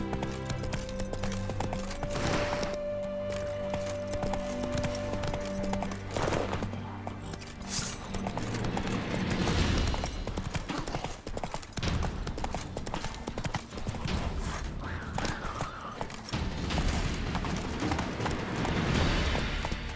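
Galloping horse hooves in The Witcher 3, the horse Roach at a run, a rapid dense clatter of clip-clop steady and loud across the whole stretch under in-game music and ambience.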